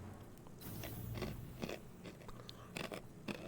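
Someone chewing crunchy food close to the mic, with loud, irregular crunches and crackles and no talk.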